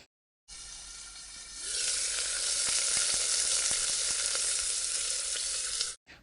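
Hot oil sizzles and crackles loudly as curry leaves, spices and asafoetida fry for betel leaf rasam, after a quiet start, with sharp pops scattered through a steady hiss, then it cuts off abruptly.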